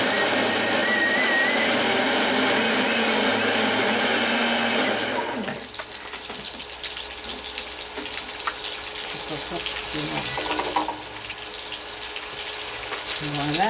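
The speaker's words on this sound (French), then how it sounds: "je vais mixer ça pour le couper en morceaux" A kitchen blender chops a prawn sauce for gambas à l'américaine, running loud and steady for about five seconds before it cuts off and lower kitchen clatter and handling noise carry on.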